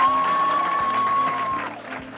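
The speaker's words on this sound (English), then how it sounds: "Let's give her a big round of applause." An audience at a school board meeting applauds a district employee of the month, with steady clapping heard under a sustained tone and low background hum, fading slightly toward the end.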